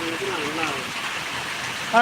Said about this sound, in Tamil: இந்த மழை நல்லது